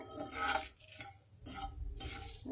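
Poppy seeds are stirred in a hot pan with the stove turned off, a dry gritty rustling and scraping in a few close, even sweeps.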